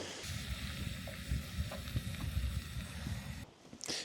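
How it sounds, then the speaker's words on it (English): Outdoor campfire burning on a freezing snowy night, with close crackling and soft popping over a low rumbling roar and wind noise, ending with a brief rustle. "So got the fire going out here, nice and cozy."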